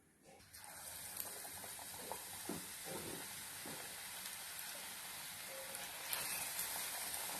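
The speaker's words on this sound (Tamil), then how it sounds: "ரெண்டு சைடும் நல்லா கோல்டன் ப்ரௌன்ல மாறுற அளவுக்கு நல்லா பொரிய விடுங்க" Raw banana bajji fry in oil with a soft, even bubbling hiss that starts up after a quiet moment and holds steady with faint crackles, no voices present.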